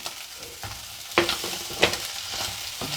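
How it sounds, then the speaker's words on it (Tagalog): Onion, garlic and ginger sauté in a pan with a continuous sizzle, broken by a few sharp clanks and scrapes of a spatula stirring against the metal. No one speaks. "At habang ginigisa natin yung ating sibuyas bawang"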